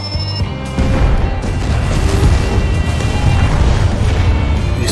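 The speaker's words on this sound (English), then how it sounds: "These fireworks are horrid." In Final Fantasy XIV, loud fireworks go off as a dense, continuous rumble of booms and crackles that starts abruptly and sustains throughout, heavy and close.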